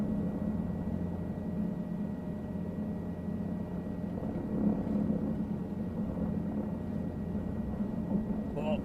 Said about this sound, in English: is that just my rotor blades going mental?